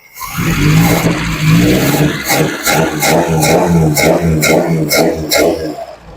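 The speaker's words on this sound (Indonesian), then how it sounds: "Sama dengar suarane, halus mesinnya, mesin sangat halus, sama dengar kan." A car engine runs steadily with a smooth mechanical hum and a faint regular ticking, close by and with no speech.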